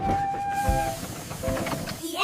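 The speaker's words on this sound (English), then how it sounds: "The whistle on the train goes toot, toot, toot all day long" Toy-like train whistle toots in a children's nursery rhyme, a few short tonal blasts over music, with sung or spoken voice mixed in.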